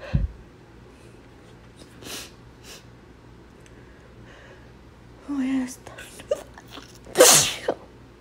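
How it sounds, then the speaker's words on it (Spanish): A person sneezes loudly and close by near the end, after a stretch of quiet breathing, sniffing and small vocal sounds, with one earlier short burst. "Necesito estornudar."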